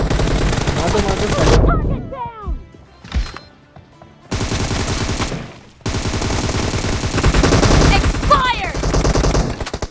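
Gunfire in a mobile shooter video game comes in loud, rapid automatic bursts, split by short pauses. Brief talk and game sounds fill the gaps between the volleys.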